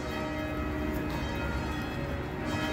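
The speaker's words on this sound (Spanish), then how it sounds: "El repicar de las campanas." Church bells ring along the San Antonio River Walk in Texas, a steady, sustained peal of overlapping tones that continues without a break under constant outdoor ambience.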